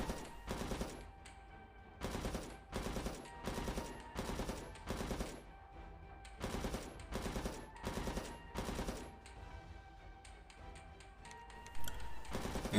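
Gunner troops in the Age of Origins game fire in repeated rapid machine-gun bursts, each burst short and crackling, separated by brief pauses, steady and moderately loud throughout.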